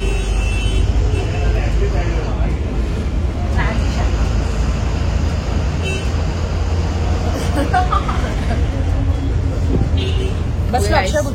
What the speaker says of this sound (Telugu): మా కోసం వచ్చింది బస్సు